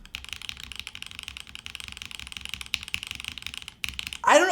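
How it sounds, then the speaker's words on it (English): Rapid typing clatters on an Ayleen TKL O-ring-mounted keyboard fitted with Gateron yellow switches, giving dense, deep, even keystrokes up close for several seconds before a louder burst of noise at the end. "It sounds like a typical O-ring board, but it's definitely a lot deeper."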